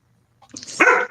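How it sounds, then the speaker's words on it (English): A pet dog gives a single short, loud bark close to the microphone during an online panel discussion, preceded by a brief rising whine. "that's my dog."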